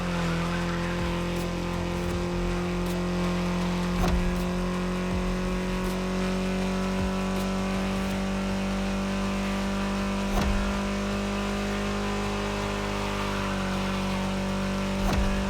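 A car drives steadily in the racing game The Crew Motorfest, its engine holding a sustained, even drone at moderate loudness with a few faint clicks and bumps, no voices.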